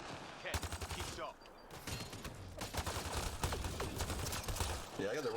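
Rapid bursts of automatic gunfire in a Mass Effect Andromeda firefight, loud and sustained with short pauses, over game sound and combat noise.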